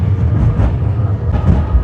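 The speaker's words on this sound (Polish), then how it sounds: "Teraz jedziemy trójką Siemensen NF6D." Inside a Siemens NF6D tram on line 3 in Łódź, a steady, loud low rumble of wheels and motors rolls on throughout, with faint clattering above it and no voices.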